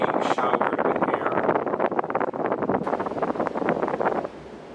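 A 2002 Hunter Bayport 107 cm ceiling fan running on high speed, a loud, rushing whoosh of blown air with buffeting gusts that drops abruptly to a softer steady hiss near the end.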